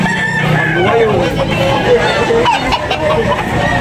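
A rooster crows among caged chickens at a busy Tabunok, Talisay, Cebu chicken market, its call rising above clucking fowl and a steady crowd babble, while people talk nearby throughout.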